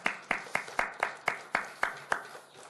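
A church congregation at an overnight Friday worship service claps together in steady, evenly spaced beats, about ten sharp claps in under three seconds, all at moderate distance with no voices over them.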